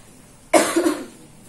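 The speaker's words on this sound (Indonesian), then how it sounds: "Malu batuk-batuk, apalagi kalau di kelas." A single harsh cough bursts out close by after a quiet moment, followed by a shorter second hack that trails off.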